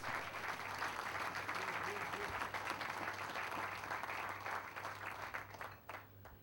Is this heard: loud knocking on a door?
no